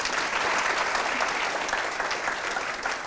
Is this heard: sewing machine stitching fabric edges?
no